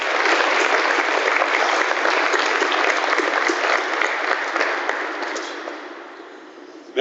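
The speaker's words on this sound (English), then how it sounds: "would you help me please thank Matt Underwood, class of 90, and Chris Diaz, class of 78, for emceeing, for presenting, and for managing today's program with a round of applause" A room full of guests at an alumni athletic hall of fame brunch ceremony breaks into a sustained round of applause, steady and dense for several seconds before tapering off toward the end.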